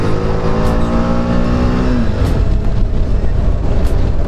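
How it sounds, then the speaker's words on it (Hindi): A motorbike speeds along a highway, its engine droning loud and steady with a falling pitch as it runs, wind noise constant throughout. "क्या भाग रही है अपनी बाइक"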